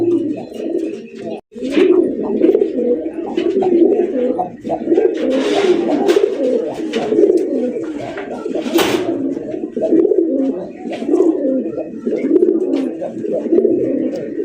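Two male Rajgolla pigeons coo continuously and loudly at close range, a dense rolling series of throaty calls with a few brief sharp sounds, and a voice speaks briefly.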